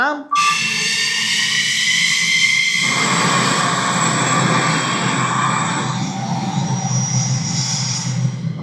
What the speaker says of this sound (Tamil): அமெரிக்காவினுடைய விமானம் கிளம்பி சிரியாவை நோக்கி பறக்குது.